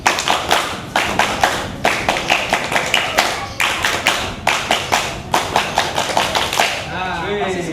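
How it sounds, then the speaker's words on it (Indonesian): A Scout clapping pattern (tepuk pramuka) rings out loud and close: crisp groups of hand claps in a set, repeating rhythm, with short pauses between the clusters. "Tepuk pramuka."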